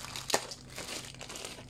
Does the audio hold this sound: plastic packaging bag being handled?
yes